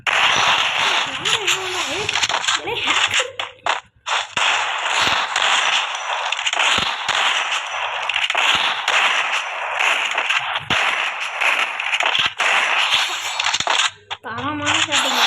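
Gunfire from the Free Fire Craftland video game in a 1v1 map match: sharp, rapid shots crack in clusters and bursts throughout, with a person talking over much of the game audio.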